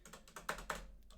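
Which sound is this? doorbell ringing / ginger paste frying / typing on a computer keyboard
typing on a computer keyboard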